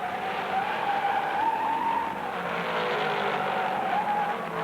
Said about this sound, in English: Yarbrough holds the lead as Dave Pearson slides into the infield.